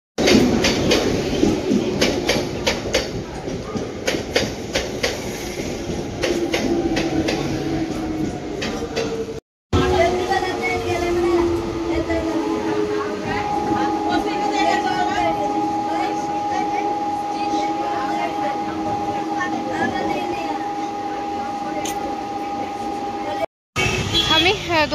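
A local train on the move, heard from inside the carriage as a steady rumbling roar with rhythmic wheel clatter and a sustained tonal whine, and a brief dropout partway through.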